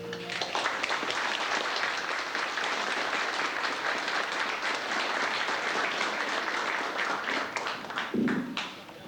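An audience at an evening radio-station celebration gives sustained, dense applause that holds steady for around nine seconds, with a brief voice near the end.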